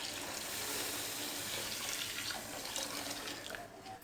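Water pours steadily from a glass into an open pot holding moong and masoor dal, a continuous close splashing trickle that softens slightly near the end, with no talking.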